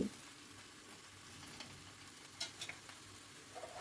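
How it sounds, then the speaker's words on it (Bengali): Beans and steamed cauliflower are stir-fried together in a pan: a quiet, steady sizzle with a few scraping stirs of a utensil against the pan, with no voices. "এবার এই ভাপিয়ে রাখা ফুলকপিটা দিয়ে দিলাম দিয়ে সব কিছু আবারও খুব ভালো করে মিশিয়ে নিচ্ছি সব কিছু একসঙ্গে একটু ফ্রাই করে নেব"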